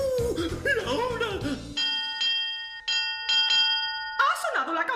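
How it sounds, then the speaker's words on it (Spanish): A school bell rings in repeated sustained electric bursts, several rings with short gaps, following children's singing and talk in a Spanish-language children's song. "¿Ha sonado la campana, alumnos?"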